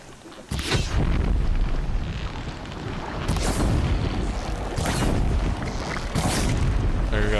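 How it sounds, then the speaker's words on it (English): Deep booming explosions in the video game Horizon Zero Dawn arrive as a series of loud blasts a couple of seconds apart, each with a rumbling tail, and no talking over them. "There goes. One explosion."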